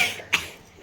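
A single short cough bursts out at home, brief and close, over a quiet background with no talking.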